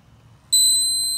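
A Swing Beep golf training aid gives one sharp, high electronic beep held for about half a second during a backswing, loud and close against a quiet background.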